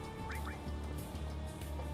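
A duck Pokémon's quacking cry from a Pokémon game, Old World Dawn, gives two short rising quacks early on over steady game music, then fainter bits afterward.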